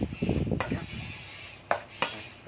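Utensils clink against a dish while minced pork larb with fermented pork sausage and shallots is mixed, a few sharp metallic taps standing out over soft scraping and faint background murmur.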